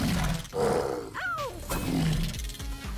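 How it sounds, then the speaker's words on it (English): A mine wolf from the video game The Pit gives a loud, rough growl and roar with a rising-falling tone, up close and filling the short clip. "That's a mine wolf."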